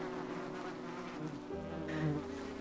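A bee buzzing close by, a loud steady drone that wavers and rises in pitch as it moves, heard alone.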